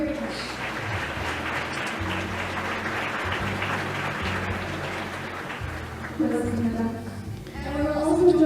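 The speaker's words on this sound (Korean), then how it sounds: "먼저 전주시 우범기 시장님께서 함께 하셨습니다. 큰 박수 부탁드리겠습니다." Audience applause at the opening ceremony of the Jeonju Future City Forum 2024, welcoming the mayor: steady clapping throughout, with a voice talking over it and swelling louder near the end.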